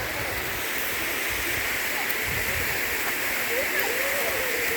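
A steady rushing of water from Kurinji Falls on the Meesapulimalai trek, a small waterfall, constant and moderately loud, with faint voices murmuring underneath.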